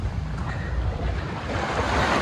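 Sea waves wash continuously at a shoreline on Siquijor, a broad steady rush mixed with wind buffeting the microphone.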